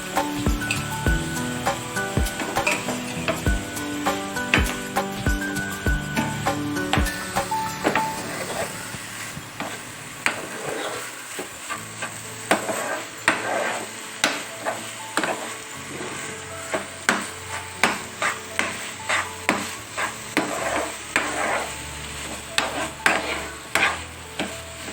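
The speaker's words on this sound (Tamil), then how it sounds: "இப்போ நம்ம வறுத்து வச்சிருந்த இன்க்ரீடியன்ட்ஸ் எல்லாம் போட்டுடலாம்." Carrot halwa with milk, sugar and roasted ingredients is stirred in a pan, giving repeated soft scraping and squishing strokes at a steady rhythm, close and moderately loud, with no talking.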